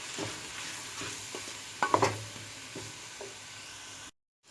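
Pumpkin roasting in a pan with two cloves of garlic and a spoonful of flour added, giving a soft sizzle and stirring scrapes, with a brief louder clatter midway and a short silent gap near the end.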